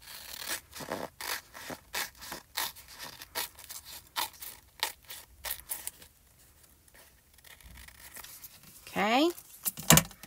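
Card stock gets folded back over double-sided tape while making a handmade thank-you card. Brisk, rhythmic scraping and rustling strokes come in close bursts, then a quieter stretch ends in a louder crinkle and swipe.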